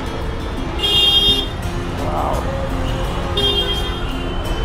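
On a crowded street in Dhaka, Bangladesh, car horns toot in short honks over a steady rumble of jammed traffic heard from a trishaw, loud and close. A voice briefly exclaims.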